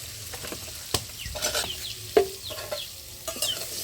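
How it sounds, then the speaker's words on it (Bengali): Potato pieces frying with turmeric in hot oil, a soft continuous sizzle broken by sharp scraping and clattering strokes of a spatula against the pan, with faint clucking of poultry in the background. "আলুটা ভেজে নিচ্ছি। একটু হলুদ দিয়ে দিলাম"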